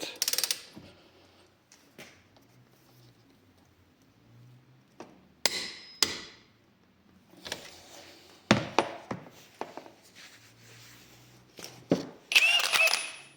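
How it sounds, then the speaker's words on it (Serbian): A torque wrench tightens a bolt to 120 Nm, giving short, sharp metallic clicks and knocks. The sounds come in scattered bursts separated by near silence. "Na moment ključu je 120 Nm, zatežem ovaj vijak na 120"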